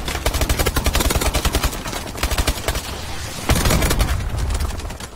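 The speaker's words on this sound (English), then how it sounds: "Oh crap, I'm getting shot a lot." Rapid automatic gunfire in the video game Call of Duty Advanced Warfare, a loud, regular burst of shots that pauses briefly and resumes in a denser, heavier stream of fire with booming impacts.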